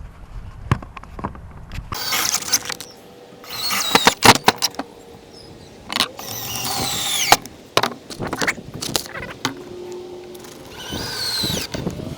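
Pre-drilling into wooden table top boards for a custom grill table, bursts of a power drill whining and biting in short runs, close and loud, separated by handling clunks and pauses.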